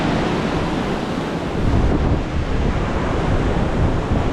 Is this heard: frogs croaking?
no